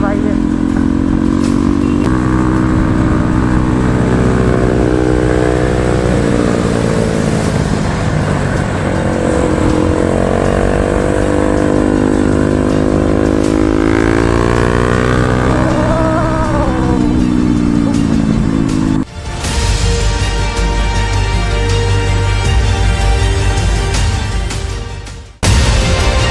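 A Pulsar NS200 motorcycle fitted with a loud modified Akrapovic exhaust roars nearby, revving up and down in rising and falling sweeps with a deep, rasping exhaust note and brief cut-offs, loud and continuous.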